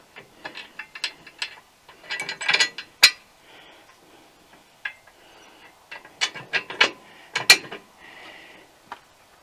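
Ratchet wrench clicking in short bursts while fastening a replacement top hook onto a tractor quick hitch, with scattered metallic clinks between the runs of clicks, close and fairly loud.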